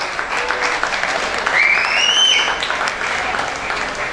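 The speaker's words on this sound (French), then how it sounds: "applaudissez encore mesdames et messieurs," Wedding guests applauding in a hall, sustained clapping from a crowd throughout with a voice speaking over it and a brief whistle partway through.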